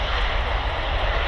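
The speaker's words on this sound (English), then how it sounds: "And then we've got the Loganair departing to Newquay. ATR 72." A Loganair ATR 72 turboprop departing from Manchester Airport gives a loud, steady engine roar from fairly close by, with a broad rushing drone and no voices over it.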